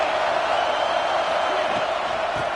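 Dense, steady stadium crowd roar from an American football video game, a continuous wall of cheering with no distinct peaks while play is pinned deep in one end.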